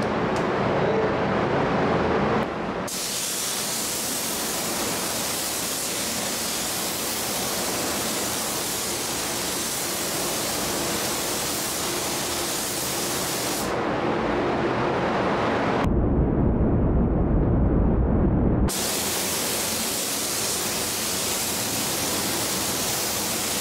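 Spray gun laying clear coat on a widebody 1970 Challenger, a loud close hissing blast of air that runs in long passes with a brief pause between bursts, no talk.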